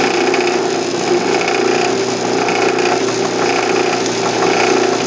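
A loud, steady power drill grinds continuously into a steel breastplate, a dense mechanical whir with a rough, buzzing edge throughout.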